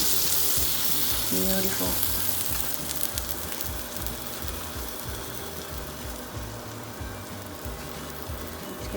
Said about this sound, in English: on a skillet, let's add some butter and toast it nicely